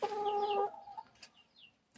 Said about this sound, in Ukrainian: И кучинский петушок. Кугутик кучинский. И пятеро курочек.